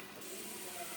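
Onion, ginger and garlic paste frying in a pan, a steady soft hiss of sizzling that holds evenly throughout with no talk over it.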